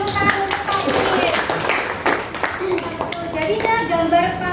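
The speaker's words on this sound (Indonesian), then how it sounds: "Kita berikan tepuk tangan untuk Faiz." Students in a classroom clapping for a classmate, sharp scattered claps mixed with ongoing talk, loud near the start and tapering as speaking continues.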